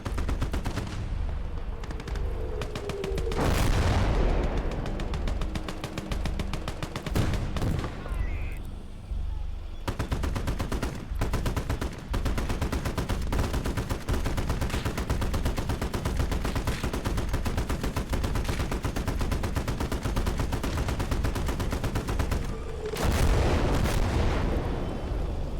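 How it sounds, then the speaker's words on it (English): Artillery and gunfire in the Call to Arms Gates of Hell video game, set in winter Stalingrad. Heavy booming blasts stand out over a dense, continuous rattle of shots across the whole stretch. "The artillery."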